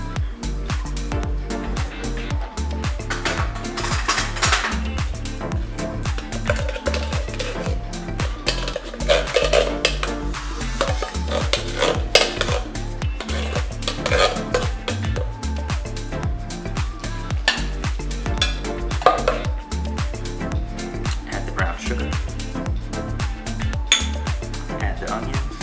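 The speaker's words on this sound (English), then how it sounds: "You're gonna add the baked beans." Canned baked beans tipped into a pan with bacon and stirred, a continuous busy clatter of metal utensil and pan scraping and clinking throughout, with a voice talking over parts of it.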